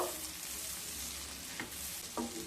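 Raisins frying in hot oil with chopped onions in a pan for sago pulao, a steady close sizzle broken by a couple of brief spatula scrapes.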